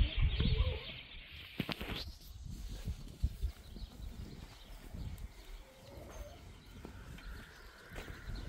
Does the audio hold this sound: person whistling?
no